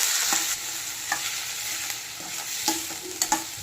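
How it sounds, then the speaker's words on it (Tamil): Onions, green chillies and curry leaves with bay leaf, cinnamon and cloves sautéing in a pan, a loud continuous sizzle punctuated by repeated scraping stirs of a ladle. "நல்லா வதக்கிடலாம்."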